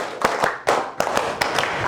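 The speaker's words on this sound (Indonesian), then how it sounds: "tepuk tangan dong buat semuanya ya" Students in a vocational high school classroom clap together in a counted clapping exercise, giving several sharp, loud hand claps spaced unevenly over a couple of seconds, with no talking in between.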